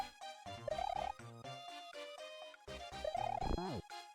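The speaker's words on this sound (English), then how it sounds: "the blarg purr, the sound that the blargs make" A deep, bassy purr from the blarg creature in the game Love Yourself repeats in wavering bursts, with squeaky warbling tones layered over it, close and slightly distorted.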